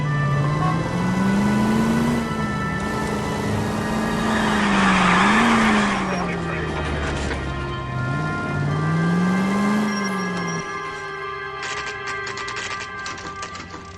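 A car in the video game L.A. Noire drives and revs, its loud engine drone rising and falling in pitch for the whole stretch. The engine eases back near the end, and no one speaks.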